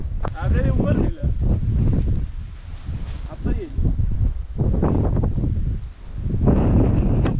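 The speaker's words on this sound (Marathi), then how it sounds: "इकडे वारा खूप जोराचा आहे. त्या साईडला ती झाडं मगाचपासून वाजत आहेत." Strong wind roars and buffets the microphone on a hilltop at Rajmachi Fort near Lonavala while trees rustle in gusts, with people talking over it.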